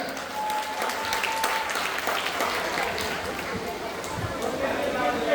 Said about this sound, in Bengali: সকল বিজয়ী প্রতিযোগীর জন্য জোরে একবার করতালি হয়ে যাক।